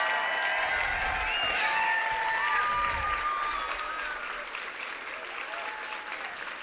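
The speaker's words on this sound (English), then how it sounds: "let's give you all a round of applause" Applause from an awards-night audience honoring finalists, a dense sustained roar of many hands clapping with some cheering, loud at first and tapering slightly toward the end.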